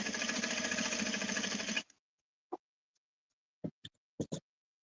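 A sewing machine runs in one steady, dense, mechanical stitching burst for almost two seconds, then stops abruptly, followed by a few short, sharp clicks and knocks of handling the machine and fabric.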